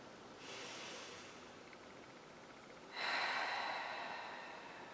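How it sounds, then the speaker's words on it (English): Two slow, soft deep breaths during chair yoga, a gentle inhale followed later by a longer, fuller airy exhale, faint and close in a quiet room. "join me in taking one last deep breath"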